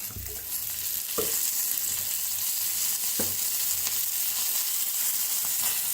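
Seeds roasting in hot oil in a pan, a continuous loud sizzle and crackle with a few sharp scraping stirs, no speech.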